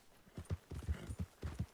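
Horse from the Red Dead Redemption 2 video game clip-clopping at a steady walking rhythm, hooves thudding close and moderately loud with a brief whinny-like undertone, no talk over it.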